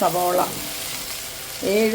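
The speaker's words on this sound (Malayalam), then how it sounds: "8 സവോള അരിഞ്ഞ് വറുക്കുകയാണ്" Eight sliced onions fry in a pan for mutton biryani, sending up a continuous close sizzle, while a voice speaks briefly at the start and again at the end.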